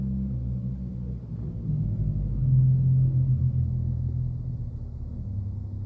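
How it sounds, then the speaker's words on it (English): Pipe organ's 16-foot principal pedal stop, a Mueller addition in a large chancel, sounding as a low, steady rumble that swells slightly midway and holds, with no voices. "rumbling around in the pedal, you can hear the 16-foot principle"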